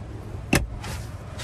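A 2025 Chevrolet TrailBlazer RS glove compartment opening, heard as a single short, sharp latch click and thunk over a low cabin hum, followed by a softer rustle.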